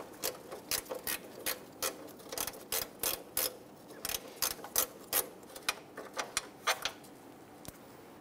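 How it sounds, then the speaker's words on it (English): A socket wrench ratchets in quick clicking bursts, about two dozen sharp strokes in uneven runs, while removing grille bolts on the passenger side of a 1997-2006 Jeep Wrangler. "I'm gonna repeat that process, removing the three bolts on the passenger side."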